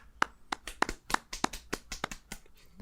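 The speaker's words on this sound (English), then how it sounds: "I'm happy to be introduced to the sound of 2 nerds clapping for me." Two people clapping unevenly, about a dozen sharp claps over a few seconds, close and fairly loud, with no talking.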